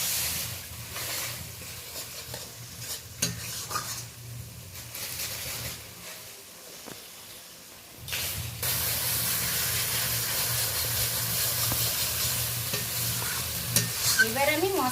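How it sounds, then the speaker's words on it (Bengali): Hot water poured into a pan of sizzling fried spice paste for a fish curry, a loud, steady hiss and sizzle that quiets briefly and then surges back stronger and continuous, close up, with no talking. "এবার আমি মশলার সাথে গরম জলটা অ্যাড করে দিলাম।"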